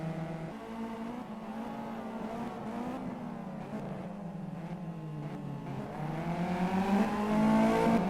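Race cars lapping Sonoma in a racing video game, several engines droning and revving together at high pitch, rising and falling through gear changes and growing louder toward the end.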